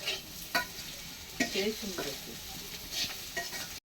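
Bitter gourd fries in a pan with a steady crackling sizzle, broken by several distinct scraping stirs of a spatula at irregular intervals.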